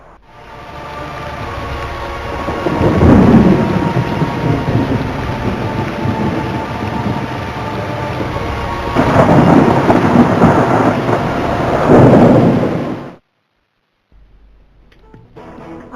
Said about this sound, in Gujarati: 2 દિવસથી રાજ્યના અનેક જિલ્લામાં પવન સાથે વરસાદ પડ્યો